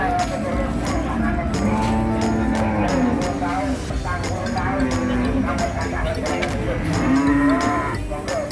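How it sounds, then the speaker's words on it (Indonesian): Cattle moo repeatedly at a busy livestock market in Pasar Ngelangon, Sragen, with several drawn-out calls rising over a constant crowd murmur of traders and animals, with voices throughout. "dengan suara-suara sapi dan banyak pedagang di sini sapi di Pasar Ngelangon Sragen"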